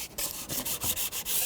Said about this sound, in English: Just keep sanding all the way around till you get a nice smooth surface